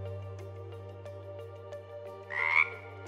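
A frog croaks close by, with a low steady drone under faint rhythmic clicks and a sharper, louder rasping croak near the end, with no voices present.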